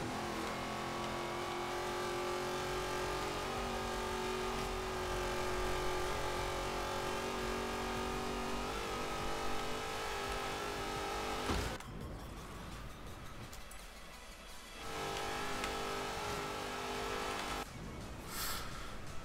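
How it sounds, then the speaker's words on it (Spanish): A Twin Mill Hot Wheels car in the racing game Forza Horizon 3, its engine droning and revving steadily up close, with a short drop in level partway through before it picks up again. "Le falta aceleración a este coche"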